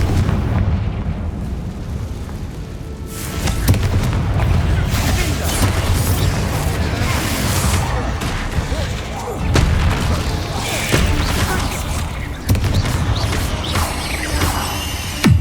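Explosive Confringo spell blasts in the Hogwarts Legacy video game, loud booming bursts that recur through a dense, continuous stretch of combat noise and rumble, with dull impacts landing every few seconds.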